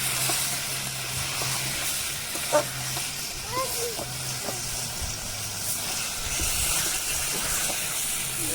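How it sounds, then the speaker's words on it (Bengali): Water poured into a hot pot of yogurt chicken with fried potatoes in a village kitchen brings a continuous loud hissing sizzle, with faint background voices. "আমি জলটা দিয়ে দিচ্ছি"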